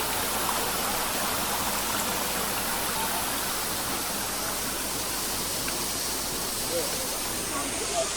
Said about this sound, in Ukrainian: цей водоспад також дуже красивий